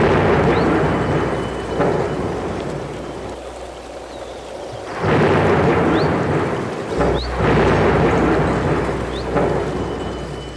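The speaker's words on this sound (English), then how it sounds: "there came a severe storm" A severe thunderstorm: heavy rain pours steadily while loud rolls of thunder swell and fade in two or three long surges, with no voices.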